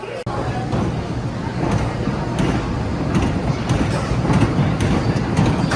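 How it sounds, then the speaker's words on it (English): A roller coaster test train runs at Holiday World amusement park, a steady rumbling rattle with faint clacks and metallic clatter, moderately loud and continuous throughout. "they are sending a test train"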